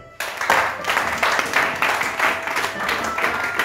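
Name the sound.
congregation applauding in church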